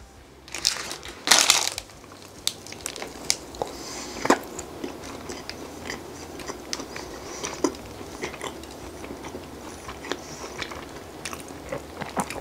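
Someone chews a soft, chewy cookie up close, with a couple of louder bites at first followed by steady, moist mastication and small crinkles and clicks.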